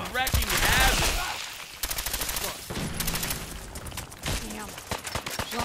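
Rapid bursts of automatic gunfire from a gun in the video game Fallout 4, loud and close, rattling in repeated volleys mixed with other game sounds while a player talks.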